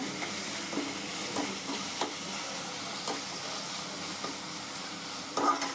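Chilli and ginger garlic paste stirred in a hot pan, a soft, fairly quiet sizzle with occasional light scrapes and taps of a spoon, and a slightly louder clatter near the end; no talk.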